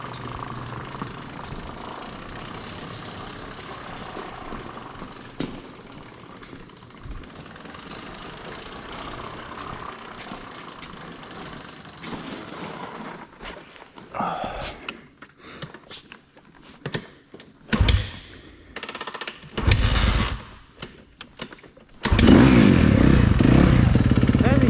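2023 Suzuki RMZ250 four-stroke race dirt bike idling and revving outdoors in a field, faint at first under footsteps and clatter, then bursts of louder throttle toward the end with some talk.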